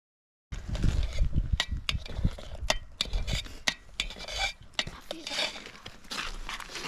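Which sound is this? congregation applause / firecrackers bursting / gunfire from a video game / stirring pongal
stirring pongal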